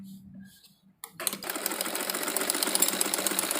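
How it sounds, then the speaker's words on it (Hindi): A sewing machine stitching along the edge of a salwar cuff starts after a short pause and runs in a steady continuous whir, with someone speaking quietly at the start. "ये हमने किनारे पर भी सिलाई लगानी है इस तरीके से"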